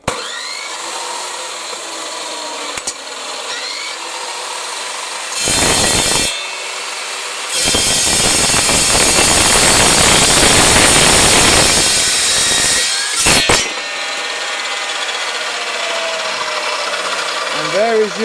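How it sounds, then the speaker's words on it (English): A power saw cuts through thick solid metal on a truck cab tilt ram, with a short burst and then a long loud grinding rasp of several seconds, quieter workshop sound before and after. "these saws don't like going through that solid amount of metal"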